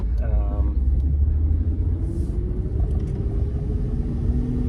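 Steady low engine rumble and road noise from inside a moving 2003 Volkswagen Eurovan with a VR6 engine and five-speed manual conversion, a constant drone with a faint rising hum, no clear talking.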